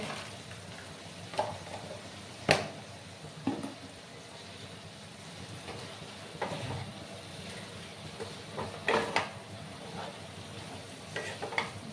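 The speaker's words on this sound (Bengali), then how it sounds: "ভালো করে আমি কষিয়ে নিচ্ছি।" Pumpkin and papad curry is stir-fried in a pan, with a soft sizzle under intermittent scraping strokes of a spatula at an uneven, unhurried pace, close and fairly quiet.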